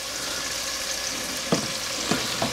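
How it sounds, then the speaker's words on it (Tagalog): Meat sautéing with ginger, onion and garlic in a pan, a soft steady sizzle with a few sharp utensil clacks of stirring near the end. "Igisa na natin yung meat."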